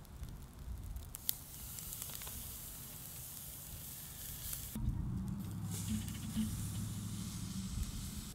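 Zucchini and squash sautéing in a pan give a faint, steady sizzle and hiss that swells slightly partway through, with no voices over it.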